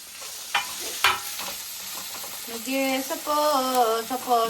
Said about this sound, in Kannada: ಫ್ರೈ ಮಾಡ್ತೀನಿ ನೋಡ್ಕೊ ಎಷ್ಟಾಗುತ್ತೆ ಅಂತ ನೀನೇ ನೋಡ್ಕೊ